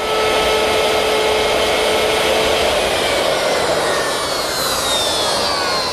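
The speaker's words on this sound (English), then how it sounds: "I've set up my stacked dado head cutter at the table saw with a sacrificial fence on my metal rip fence" A table saw fitted with a stacked dado head cutter and a sacrificial fence on a metal rip fence cuts a 5/8 by 3/8 rabbet. It produces a loud, steady, unbroken whine that runs alone for the whole stretch.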